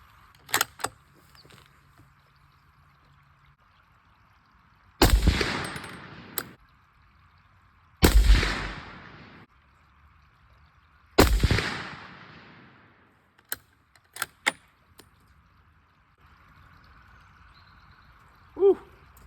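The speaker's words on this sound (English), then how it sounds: "let's do a 3-shot group" Three loud, sharp rifle shots from a Tikka T3 hunting rifle in .270 Winchester, fired as a group at a range, spaced about three seconds apart, each with a decaying echo tail, followed by faint clicks of the bolt being worked.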